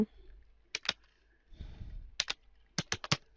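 Someone types on a computer keyboard in short clusters of sharp, close key clicks separated by pauses, with a soft rustling shuffle between the clusters.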